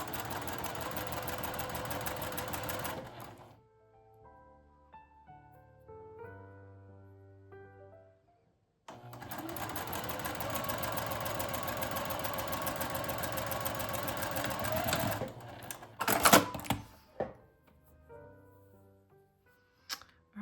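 A domestic sewing machine stitches a plain seam in lightweight fabric, running in two steady bursts separated by a quiet pause with small clicks and handling sounds, then stopping with a few clacks.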